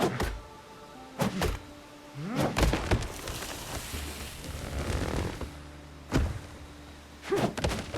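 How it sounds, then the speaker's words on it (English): Trees come down in the video game Windrose, a run of heavy thunks and crashing impacts with creaks and rustling debris, the loud hits spaced irregularly with quieter clatter between them. "I like how the trees fall."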